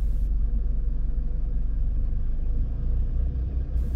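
Car engine pulling uphill at a slow crawl with clutch slipping and light throttle, a steady close low rumble that holds evenly throughout with no voices.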